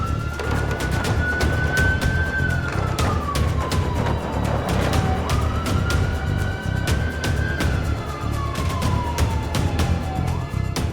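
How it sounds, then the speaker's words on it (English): A Land Rover Discovery Red Cross emergency response vehicle sounds its siren with blue lights on, wailing up and down in two long, smooth sweeps. It stays loud and steady from start to finish, with no talking. "put on the blue light and the sirens"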